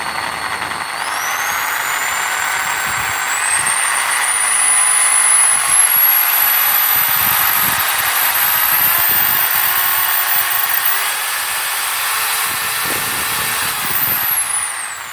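A Bosch GSB 501 hammer drill runs on its variable-speed trigger, its high motor whine climbing steadily in pitch as the trigger is squeezed deeper, then dropping away at the end, loud and close with no talk.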